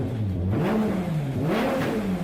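A BMW M88 naturally aspirated inline-six engine revs loudly and up close, its pitch rising and falling over two quick throttle blips with no voices.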